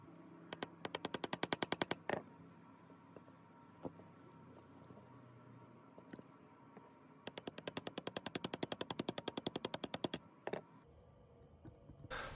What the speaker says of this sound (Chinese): 把握把底部这个销子给敲出来啊